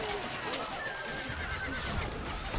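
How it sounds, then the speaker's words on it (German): Horses whinny in the Stronghold Crusader strategy game during a 2v2 AI battle. A thin neigh rises over dense, steady battle noise and clip-clop, with someone commentating. "Leider rennen die ganzen Pferdchen hier immer in den Feuertod rein."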